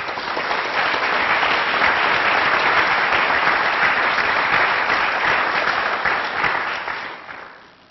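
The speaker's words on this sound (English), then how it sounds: "we need to give these guys a round of applause because they organized it all" A large symposium audience claps for the graduate student organizers, dense and loud sustained applause that holds steady for several seconds before tapering off at the end.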